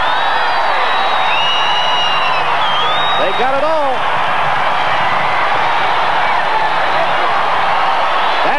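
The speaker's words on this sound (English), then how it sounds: "look at the crowd here in Bozeman" A football stadium crowd roars steadily in Bozeman as the Montana State Bobcats score a long touchdown pass in a 1984 Division I-AA semifinal, loud continuous crowd noise with a commentator talking over it.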